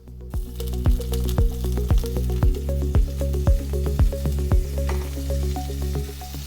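Cumin and mustard seeds with green chilies sizzling in hot oil for a tadka in a flat-bottomed pan, a steady crackle with repeated sharp pops and spits throughout, close and fairly loud, no talking.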